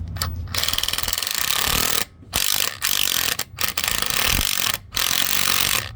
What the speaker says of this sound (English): Show right here how it pulls the balancer in.